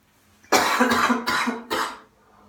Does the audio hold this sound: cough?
yes